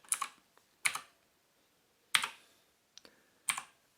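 Keys clack on a GranVela MechanicalEagle Z-77 mechanical gaming keyboard with blue switches, five sharp, separate presses spaced apart in quiet, crisp and close.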